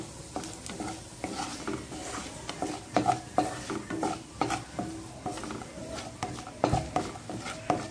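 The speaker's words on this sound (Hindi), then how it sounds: "गरम हो गया है तो मैं इसमें डाल दे रही हूँ जीरा, साथ ही साथ ये 2 लाल मिर्च, थोड़ा सा हींग, और इन सबको मैं शटक जाने देती हूँ" Cumin seeds, two dried red chilies and a pinch of asafoetida splutter in hot oil in a pan, giving a continuous soft frying crackle with irregular pops and stirring clinks, nearby.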